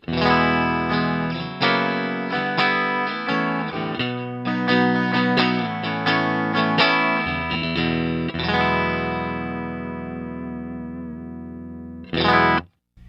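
Charvel Guthrie Govan signature electric guitar played clean in pickup position two, with strummed chords and picked notes ringing out, then a long fading sustain and a final short chord.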